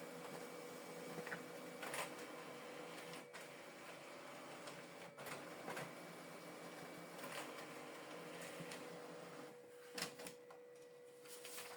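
A Brother MFC-L2800DW printer runs steadily with a mechanical hum and periodic clunks as paper feeds through for double-sided printing, quiet and close.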